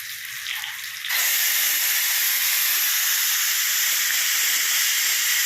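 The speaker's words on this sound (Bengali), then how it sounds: "একদিকে পেঁয়াজ রসুন ভাজা হচ্ছে আর একদিকে আলু সেদ্ধ হচ্ছে" Loud, steady hiss of onion and garlic frying in a pan alongside potatoes boiling, a quieter sizzle for the first second before the noise jumps up and holds constant.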